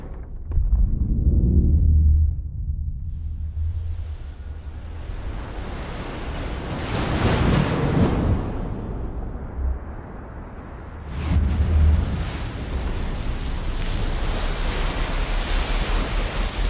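Water sounds from a film scene of a man falling backwards into a bathtub: a heavy surging, splashing wash swells early, again mid-clip and near the end, over a continuous broadband rush with no speech.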